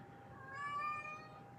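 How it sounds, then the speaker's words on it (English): A single drawn-out cat meow, clear and close, rising then fading over about half a second against quiet room noise, with no talking. "Meow, meow, meow, meow."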